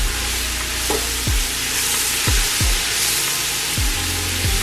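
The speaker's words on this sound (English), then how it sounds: "Give this a stir." Chicken enchilada pasta sizzles steadily in a hot pan while a utensil scrapes and stirs it in a handful of short, uneven strokes, close and fairly loud.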